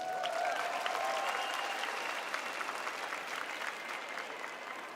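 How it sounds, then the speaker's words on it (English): A large crowd applauds pageant contestants at a Miss Universe preliminary competition, sustained dense clapping that stays loud and even, fading slightly toward the end. "Let's give them another round of applause."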